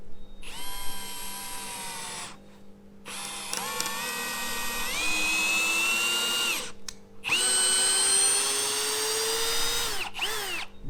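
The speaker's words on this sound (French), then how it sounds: "on va voir comment ça se visse dans le bois" A TECCPO 18V cordless hammer drill/driver whirs in several long bursts, its motor pitch rising and dipping under load as a screw is driven into wood, with short pauses between runs.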